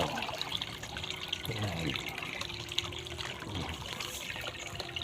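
Clear river water at Batang Sulop, Davao del Sur, flows and trickles softly in a quiet, steady burble, while someone speaks briefly over it.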